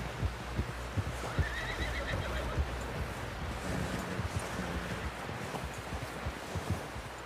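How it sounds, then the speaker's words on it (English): A horse whinnies in the video game Red Dead Redemption 2 over a busy, wind-blown outdoor scene with scattered thumps and clopping; the neigh is moderately loud amid steady background noise. "Someone help John down off this horse"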